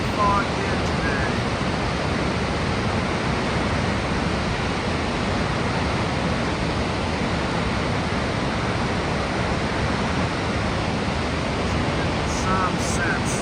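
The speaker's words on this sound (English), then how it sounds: "how powerful this waterfall is." Powerful waterfall on the Foothills Trail on a foggy day, a steady, dense roar of rushing water that fills the whole stretch without letup, loud and continuous throughout.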